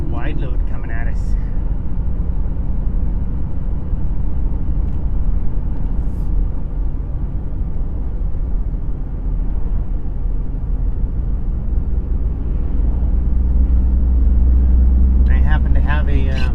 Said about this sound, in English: we got a great big wide load coming at us